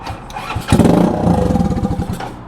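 A Honda Ruckus scooter engine cranks and catches after sitting unused for three weeks, then settles into a loud, close, rapid putter that keeps running steadily to the end.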